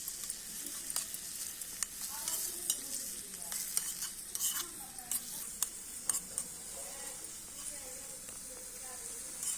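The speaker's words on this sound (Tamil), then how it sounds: "இது நல்லா பச்சை வாசம் போற வரைக்கும் நல்லா வணக்கிக்கலாம்." Ground masala paste sautés in a pan for channa masala sundal, giving a steady soft sizzle with repeated scraping and stirring clicks of a spoon against the pan, close and fairly quiet.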